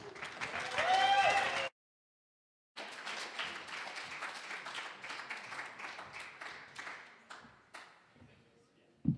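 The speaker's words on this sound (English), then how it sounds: "Let's have a big round of applause for Will Baxter" Audience applause at a live event, a sustained patter of many hands clapping after a brief gap, gradually thinning to scattered claps before ending.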